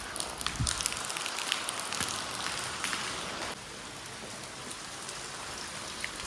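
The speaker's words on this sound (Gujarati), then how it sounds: "તો ગાઈઝ વરસાદ" Steady rain falling in a continuous soft hiss and patter, with scattered louder drops; the level dips slightly partway through.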